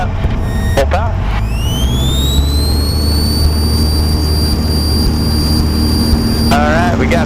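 A small training airplane's piston engine at full takeoff power, a loud steady roar with a rising high whine settling into a sustained tone, heard from inside the cockpit with brief radio or intercom chatter near the start and end.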